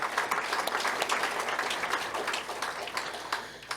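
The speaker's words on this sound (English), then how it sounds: "I'd like to give them a round of applause as well," A modest round of applause from an audience at a water policy discussion evening, scattered hand claps at moderate distance, fairly soft and fading slightly toward the end.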